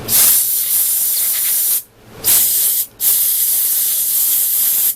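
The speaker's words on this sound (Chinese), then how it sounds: "用气枪把它吹干净。" An air gun blows dust off an ice-breaker blade-head bearing in a Morning Caller MC2003, a loud close hiss in three sustained bursts separated by brief pauses.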